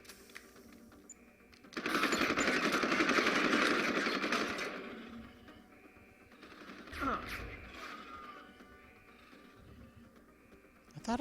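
Burst of sustained gunfire in Deus Ex: Human Revolution, a dense rattling volley lasting a couple of seconds, followed by quieter game sounds and a sharper impact, with a voice speaking around it.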